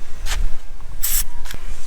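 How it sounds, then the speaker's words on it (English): Brake cleaner degreasing solvent hisses out of a spray can in three short bursts onto axle bearings, close and fairly loud, with brief pauses between. "spraying the brake cleaner or the degreasing solvent in there"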